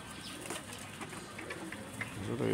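Pigeons coo softly in a cage area, with bursts of chirps and faint wing flutters over a quiet background.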